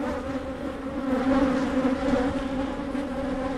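Agitated honey bees swarm and buzz close around a GoPro camera at an open hive, a dense, continuous drone that swells slightly midway, with no talking.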